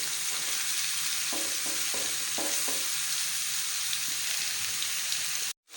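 Tinda (apple gourd) frying in a pan makes a steady, soft sizzle with faint scraping stirs, and the hiss cuts out abruptly at the very end.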